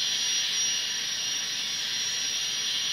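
Scale Trains GTEL 8500 Big Blow model gas turbine locomotive running at steady RPM, a constant high whine and hiss like a small jet engine, loud and unchanging throughout with no talk.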